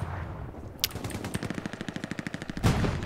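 Rapid automatic gunfire in the World War II shooter Hell Let Loose, a steady rattling burst of closely spaced shots after a single sharp crack, ending in a louder blast.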